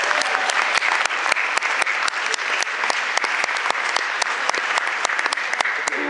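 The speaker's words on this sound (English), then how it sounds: "Let's give Kayla a big round of applause" Audience at a foundation event breaking into loud, dense applause, many hands clapping continuously with sharp individual claps standing out, sustained throughout.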